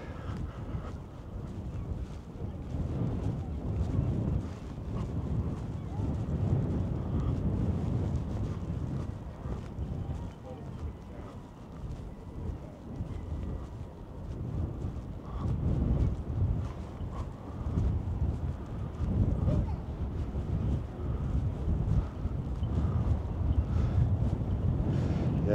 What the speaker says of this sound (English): a little bit breezy down here